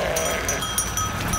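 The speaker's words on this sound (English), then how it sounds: "Bosnian sheep" Sheep bleat in short overlapping calls from a nearby flock blocking a road in Bosnia, with faint rustling and clinking in the background.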